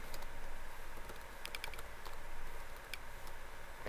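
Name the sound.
typing on a computer keyboard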